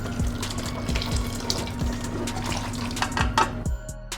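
Meat broth with meat pours steadily into a pot of rice with a running, splashing sound, a few metallic clinks, then it stops near the end.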